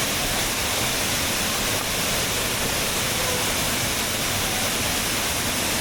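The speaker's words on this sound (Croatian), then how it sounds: "I ovaj vodopad je otprilike nekih 20 metara visok." Roar of a waterfall about 20 metres high in the Vlašić highlands, a steady, dense broadband rush of falling water, loud and close, constant throughout with no voices.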